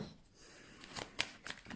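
Tarot and oracle cards riffled and handled in a brief burst, a few soft papery flicks and snaps close by and fairly quiet, no speech.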